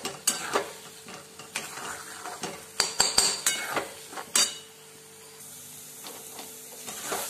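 Egg bhurji stirred in a pan, sharp metal spatula clicks and scrapes in an irregular rhythm over a quiet sizzle, close and moderately loud, no talk.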